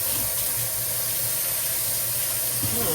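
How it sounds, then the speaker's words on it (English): Steady rushing water with a constant broad hiss, like a tap running hard into a sink, continuous throughout with no talking. "I'm making a lot of noise with that water"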